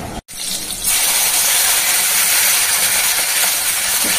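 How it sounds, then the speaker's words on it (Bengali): A kitchen mixer grinder whirs steadily as it grinds poppy seeds, white and black mustard, two dried red chillies and salt. A brief pause comes, then a loud continuous hissing whir that runs unbroken to the end with no talk. "এটা এবারে মিক্সিতে বেটে নেব।"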